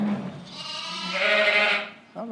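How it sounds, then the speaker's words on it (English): Sheep bleat inside a barn holding young lambs, a single drawn-out wavering cry rising and then fading, fairly close, followed by a brief second sound at the end. "Hello, sheep."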